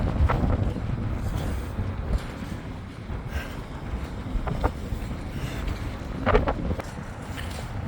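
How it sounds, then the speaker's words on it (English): Steady outdoor wind rushing and buffeting at Pier 17, South Street Seaport, New York, in December, with broadband gusts and occasional creaks, loud and continuous throughout. "A little windy, but not as much."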